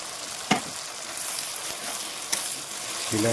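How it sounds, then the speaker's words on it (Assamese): Pangas fish curry with tomato frying in a pan, a steady close sizzle with a couple of sharp stirring clacks from the utensil against the pan, and a brief voice at the end. "দি কিনে আমি এতিয়া লাৰি আছোঁ।"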